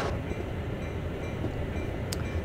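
A GP40-2 diesel locomotive in Train Sim World hauls a coal train, a quiet steady rumble with low rolling rail noise and a faint brief click near the end.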